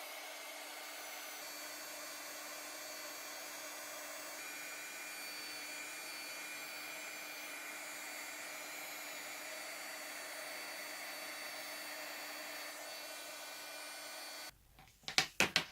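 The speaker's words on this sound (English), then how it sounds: "This is a heat embossing tool." A heat embossing tool blows hot air in a steady, even whoosh for about fifteen seconds, then cuts off and is followed by a few soft handling clicks.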